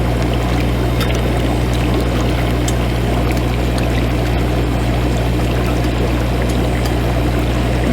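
Compost tea gushes from an open garden hose onto garden plants, a loud, steady rushing pour with a constant low hum underneath throughout.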